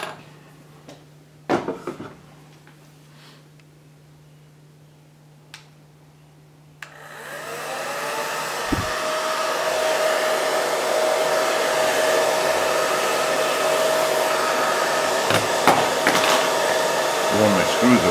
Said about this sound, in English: And then I'm gonna do the hairdryer.